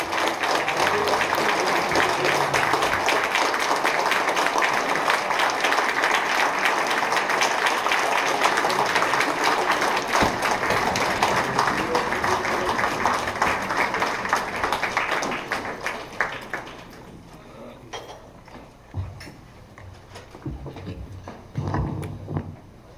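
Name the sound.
audience applause at presidential inauguration ceremony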